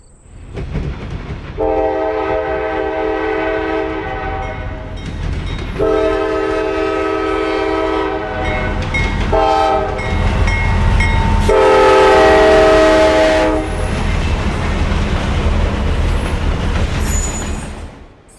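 A CSX freight train, Q241, hustles south on the Toledo Sub, its horn blaring in repeated long blasts over the steady roar and rumble of the passing cars, loud and close throughout.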